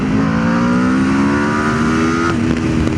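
An Aprilia RSV4 Factory motorcycle engine pulls hard under acceleration, a loud, close, steady roar with rising pitch that shifts near the end, with no talk.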